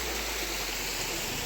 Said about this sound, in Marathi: बघा आमचं धबधबो जास्त मोठं नाही.